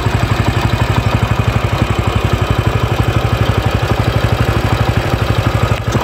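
A Bajaj Pulsar 135 LS motorcycle, around a 2012 model, idles close by with a steady, even exhaust pulse, smooth and loud, unbroken for the whole stretch with no voices.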